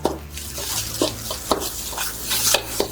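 Day-old rice and green onions tossed and stirred in a hot wok, a steady oily sizzle punctuated by repeated scraping knocks of a utensil against the pan, close and busy.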